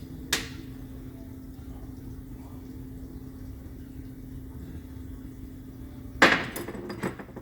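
A hammer whacks a plug out of a hammer cylinder: two sharp metallic strikes, one near the start and a louder one toward the end, with quiet shop hum between.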